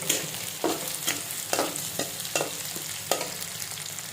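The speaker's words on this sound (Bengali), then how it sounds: "পেঁয়াজটা আগে ভাজা লই।" Onions fry in a pan for a prawn dish, a close, continuous sizzle punctuated by regular spatula strokes and scrapes roughly every half second, with no talking.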